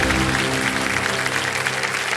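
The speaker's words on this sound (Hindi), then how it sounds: "तालियां बजती रहे जोरदार।" Studio audience on a TV quiz show applauding a contestant, a brief, thick wash of clapping with a sustained musical tone underneath.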